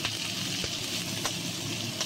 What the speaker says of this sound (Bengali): এই আদাটা লঙ্কাটা একটু ভাজা হোক।